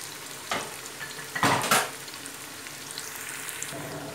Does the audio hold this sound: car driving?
no